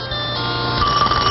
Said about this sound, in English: Telephones.